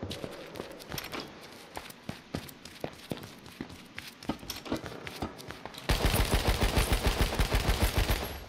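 AK rifle fire in the video game H1Z1 King of the Kill: spaced single cracks and short bursts at a moderate distance, then a loud, sustained stream of rapid automatic shots closing out the clip.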